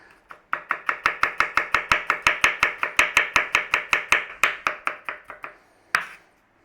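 Knife finely chopping onion on a board, about twenty-five rapid, evenly spaced sharp chops at close range with a brief pause and one final chop near the end.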